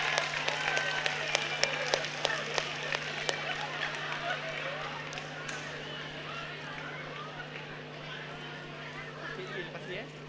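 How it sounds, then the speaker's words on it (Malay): Sustained applause and clapping from a crowd at a university orientation event fills the stretch, steady and dense, with a constant hum underneath and faint voices mixed in. "Beri tepukan gemuruh kepada juara kita."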